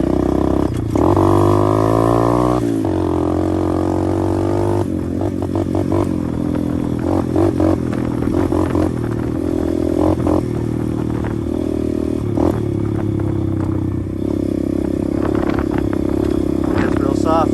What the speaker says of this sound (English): There's nothing wrong with the bike, by the way. I just like playing with the throttle.